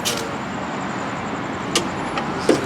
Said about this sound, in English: As you guys can hear by the sound of this car